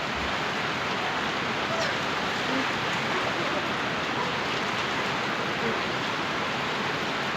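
Heavy rain pours down steadily during a typhoon, a dense continuous roar of water hitting surfaces with no letup, loud and close throughout.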